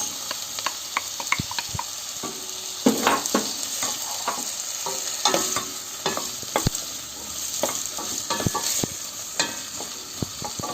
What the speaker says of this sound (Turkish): Şimdi patateslerimizi ilave ediyoruz.